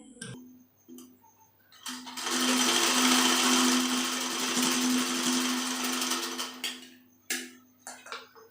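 An electric sewing machine runs a steady, loud burst of double-stitching along a kurti seam for roughly five seconds. Quieter handling clicks come before and after the run.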